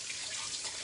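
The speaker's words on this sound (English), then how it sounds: "let me rinse my fingers off" Water runs steadily from a kitchen tap as fingers are rinsed under it, a continuous close hiss and splash.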